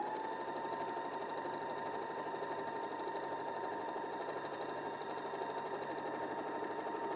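A sewing machine stitching steadily with a fast, even mechanical whir and a faint rhythmic clatter, heard at low level and without any talking.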